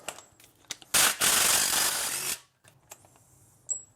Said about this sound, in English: I'm going to take the studs off